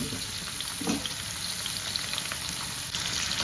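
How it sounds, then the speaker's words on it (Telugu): Potato pieces frying in hot oil in a home kitchen: a steady, dense sizzle throughout with a couple of soft stirring knocks, close and even, no talk. "ఇవి బాగా వేయించుకోవాలా"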